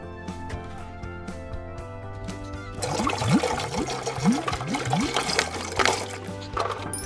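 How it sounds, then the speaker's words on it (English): Water poured into a tank in a children's sink-or-float science demonstration, starting with a soft trickle and then becoming a loud gushing pour with bubbling glugs, close to the microphone. "Good thing I have a bunch of water. Let's fill it up."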